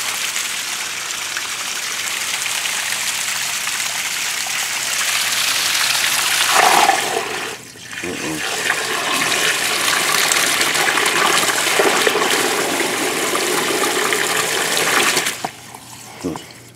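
Cold tap water runs steadily at close range before dawn, a continuous splashing gush with brief breaks, while someone talks over it at times.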